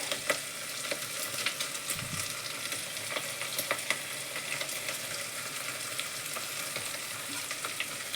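Curry leaves fry in hot oil in a pan, giving a soft, steady sizzle with scattered crackles and pops and occasional faint stirring.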